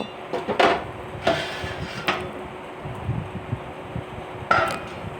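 A lid goes onto a cooking pot on a gas flame with pieces of potato, pointed gourd and egg in a Bengali egg curry, giving a few sharp metallic clacks and taps against a steady low background.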